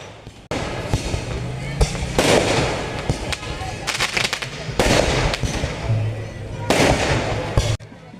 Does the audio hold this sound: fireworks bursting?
yes